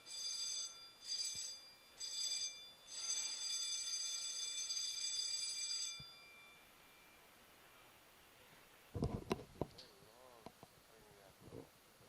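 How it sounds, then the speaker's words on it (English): A ship's electronic drill alarm aboard a research vessel beeps in four repeated bursts, the last one sustained for several seconds, then stops; faint voices and clatter follow afterward. "that alarm that you heard is alarm. It's a drill alarm."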